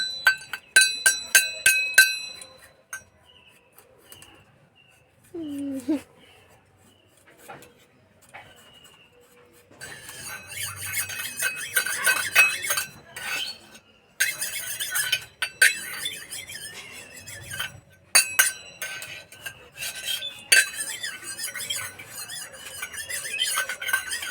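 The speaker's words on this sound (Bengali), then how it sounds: "বাটি আর চামচ নিচ্ছে, তো এই যে বাজাচ্ছে" A child bangs a spoon against a bowl in bursts of ringing metallic clinks and clatters, loud and close, with pauses between the bouts.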